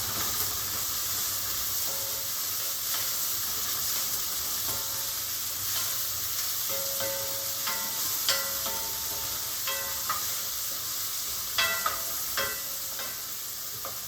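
Vegetables sautéing with a pinch of salt in a pan for a vegan mushroom dish, a steady close sizzle broken by occasional stirring clicks and scrapes, with no talking.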